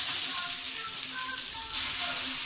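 Chopped onions frying in hot oil for a Tamil crab curry, a steady close sizzle and hiss that holds for a couple of seconds with slight swells and no talk over it.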